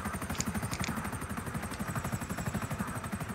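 A stealth helicopter in the video game GTA flies with a steady, loud, rapid rotor thumping over a constant engine whine, close and continuous, with no talking.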